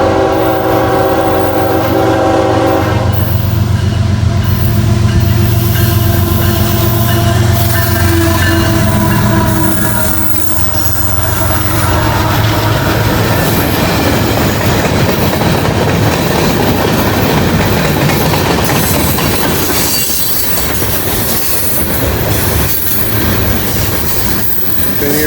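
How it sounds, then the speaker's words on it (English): A northbound freight train passes close by at Ringgold, Georgia. A horn sounds at first, then the loud rumble and rhythmic clickety-clack of wheels and cars roll past steadily, with no talking. "Northbound in Ringgold. First train on this line in about 5 hours."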